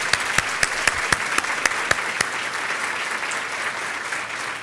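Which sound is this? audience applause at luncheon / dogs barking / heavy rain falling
audience applause at luncheon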